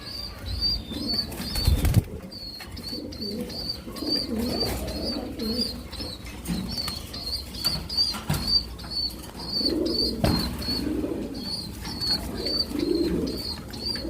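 A pair of Silky Lakkha pigeons on a farm, with soft flapping and scuffling of wings, gentle cooing, and a repeated high chirping call running through most of the scene, close by.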